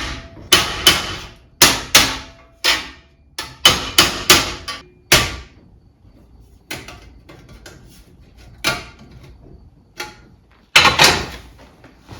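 A hammer flattens the edges of a bent metal piece from a run-over battery charger clamped in a vise, with sharp ringing blows close by. They come fast and heavy at first, then turn sparser and softer, with a few late strikes.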